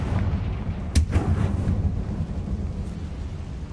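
The Confringo fire spell in Hogwarts Legacy goes off as a single sharp, loud blast, followed by a rumbling, roaring tail under a steady windy wash.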